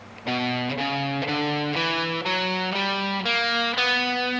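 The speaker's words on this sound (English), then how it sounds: "Harmonic minor sounds like this." An ascending harmonic minor scale, eight evenly spaced notes played one after another on a lone instrument, steady and close-up with no speech.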